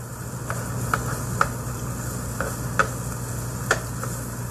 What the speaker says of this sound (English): All I'm doing really is stirring the stuff in.